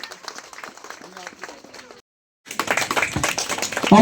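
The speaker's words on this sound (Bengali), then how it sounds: "আমাদের সকলের পক্ষ থেকে একটা জোরে করতালি চাই" At a school Saraswati Puja cultural programme, a voice speaks over a quiet room, then falls silent. Loud, dense audience clapping follows and keeps building for a girl honoured for her achievement.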